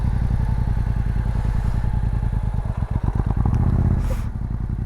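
A motorcycle engine runs close by, with a steady low throbbing idle that turns into a faster, uneven putter, then settles back near the end.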